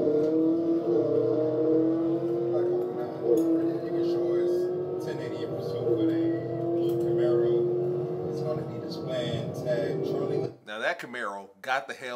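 A stolen Chevrolet Camaro ZL1 accelerates hard during a police chase, its engine roaring and rising in pitch under ongoing talk, then fading as the car pulls away.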